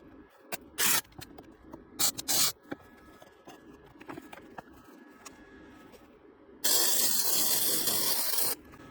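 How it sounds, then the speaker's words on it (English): Titanium Easy-Flux 125 flux core welder running 0.035 wire on thick steel plate, 3/8 to 1/2 inch: several short, loud bursts of hissing crackle, then a steadier two-second stretch of close arc sizzle, with no talking. "This is a flux core welder."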